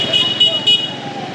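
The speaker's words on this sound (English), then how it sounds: "People really use their honk very generously here." Car horns honking in busy Vietnamese street traffic, three short high beeps in quick succession over a steady roadway rumble, with voices talking nearby.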